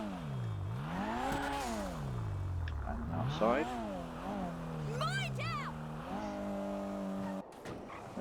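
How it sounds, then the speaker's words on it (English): A video game car rolls out of a garage onto the street, its engine revving up and down in sweeping pitch changes with a brief tire squeal, under a short spoken phrase. "This is me driving out on the street"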